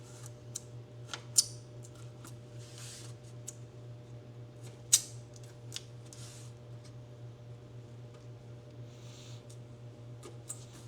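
Scissors snip X shapes into tape while building a truck bed topper, a string of sharp, close clicks and cuts spread unevenly over a low steady hum.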